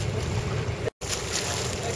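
Wind buffets the microphone over a nearby boat's rumble and splashing wake water in the Catalina Channel, with a momentary dropout midway.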